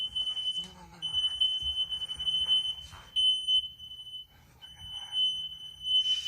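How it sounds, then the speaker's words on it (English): A shrill, high-pitched smoke alarm beeps steadily and piercingly throughout, with muffled movement and faint voices underneath. "Those fire alarms."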